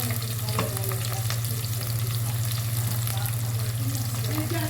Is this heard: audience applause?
no